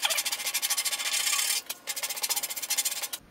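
Hand sanding a rounded edge on a wooden cockpit deck beam of a 1973 Egg Harbor Sportfish boat, quick rhythmic back-and-forth scratching strokes close up, with one short pause midway.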